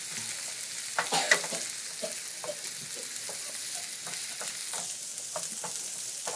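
Onion and garlic fry lightly in oil in a pan, a steady soft sizzle with repeated scraping stirs. It runs for several seconds with no talking, and one louder clatter comes near the start.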